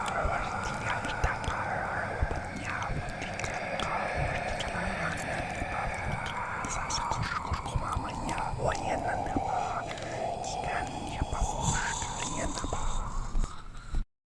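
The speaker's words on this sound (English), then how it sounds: "So I got the file of the whispering and listened to it very closely." Whispering sound file from the catacombs of the Gorilla Tag video game: a continuous stream of breathy, murmured whispers with faint watery gurgles. It stays steady and close for about fourteen seconds, then cuts off abruptly.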